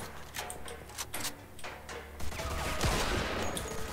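M1 Garand rifle fire in Mafia II, several sharp, fairly distant cracks spaced irregularly, then a denser burst of gunfire and clattering action over a steady low hum.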